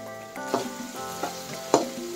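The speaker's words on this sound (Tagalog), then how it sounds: "haluin lang natin para hindi naman siya masunog" Ginger frying in a pan with garlic, stirred with a few scraping spatula strokes over a continuous close sizzle, moderately loud, no voices.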